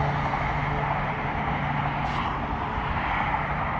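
A converted Traxxas HCG Slash 2WD RC car runs with a steady, buzzing electric drivetrain hum at moderate distance, holding fairly constant over a few seconds with no talk.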